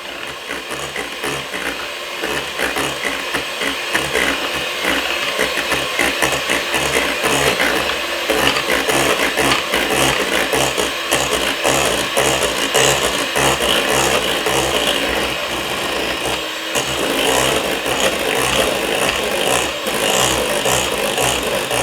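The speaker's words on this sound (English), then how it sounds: "put it in and whisk it like this." Hand whisk beating fresh cream with icing sugar in a bowl, a steady fast scraping rattle that runs continuously and close for the whole stretch, with only a brief pause.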